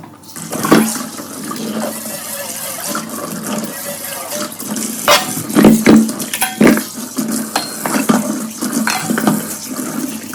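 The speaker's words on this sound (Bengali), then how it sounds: "এটার মধ্যে একটু গরম জল দিতে হবে, নাহলে এটা ছাড়বে না" Hot water running from a tap into a pan in a home kitchen, a steady close splashing stream with louder gushes and light clinks of the pan partway through.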